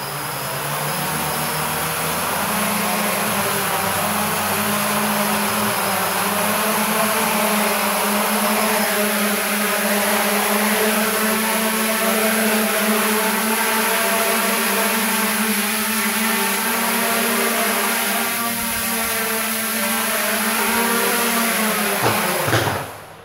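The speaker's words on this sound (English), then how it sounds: "now I'm going into horizon mode. All motors spin up." Quadcopter motors on a Naze32 rev6 flight controller spinning up in horizon mode, making a loud, steady, close whirring whine that holds for over twenty seconds before cutting off.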